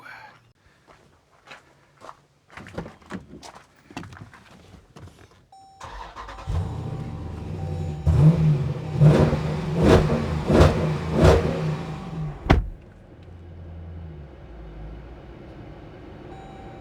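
A Dodge Durango SUV cranks and starts after some nearby clattering and footsteps, then its engine revs loudly several times in quick bursts before settling to a steadier idle as it pulls away.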